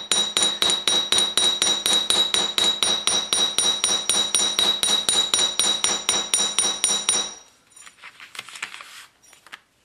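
Wire for a Christmas tree pendant is hammered in fast, even metallic strikes, about three per second, ringing bright and close for several seconds before stopping, followed by faint paper rustling.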